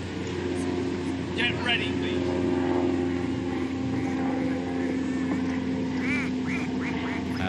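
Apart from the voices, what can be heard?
aeroplane flying overhead at rowing race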